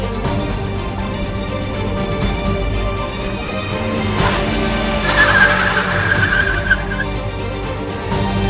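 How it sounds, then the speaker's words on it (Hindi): A car speeds past and skids, tires squealing sharply for about two seconds over a loud engine and background music. "पागल इंसान इतनी तेज गाड़ी चला रहा था"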